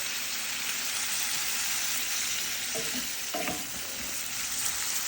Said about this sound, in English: They are cooking in that oil, that butter